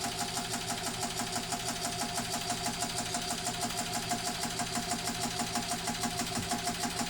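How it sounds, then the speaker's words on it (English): A refurbished 1918 Singer 127 'Sphinx' sewing machine runs with its bobbin winder turning on a new tire. It makes a quiet, steady, rhythmic mechanical whir with an even repeating clatter throughout. "I have the bobbin winder running, has a new tire on it"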